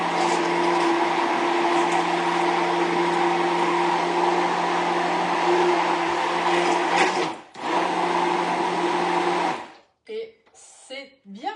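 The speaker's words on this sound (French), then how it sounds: "on va mixer le tout finement. Donc vous prenez un mixeur plongeant avec le pichet" An immersion blender whirs steadily in its pitcher, puréeing eggs, cream and broccoli for a broccoli-feta dish. The loud, continuous motor drone runs for about nine seconds, dips briefly once, then cuts off into short, uneven bursts and rattles.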